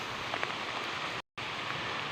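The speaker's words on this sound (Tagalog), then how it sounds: "init ang umaga hanggang tanghali tapos biglang bumuhos yung ulan" Steady rain pours down in a dense hiss, broken by a brief moment of silence before it resumes.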